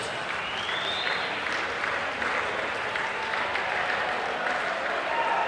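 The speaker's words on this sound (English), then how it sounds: "a huge round of applause to both boxers in that contest" A crowd applauds steadily at a white-collar boxing event after a three-round contest, with dense, sustained clapping and cheering filling the room at an even level throughout.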